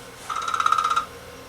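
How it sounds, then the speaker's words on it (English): A test tone recovered from an RCA MI-19051A broadcast TV monitoring diode from abandoned broadcast TV equipment: a brief, clear, slightly warbling electronic tone of under a second, alone over a faint hum. "that's 400 hertz recovered signal right there"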